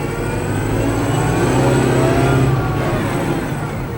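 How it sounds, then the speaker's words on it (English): A Kubota 5740 tractor engine with auto throttle revs steadily upward, a loud, close, continuous diesel drone that rises in pitch and holds for several seconds, with no talking. "the more you put your foot down here on this pedal, the faster the engine RPM will go"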